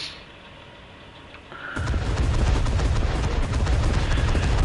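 Rapid, dense cannon fire in War Thunder, starting abruptly after a quiet moment and continuing as a loud, rattling stream of shots to the end.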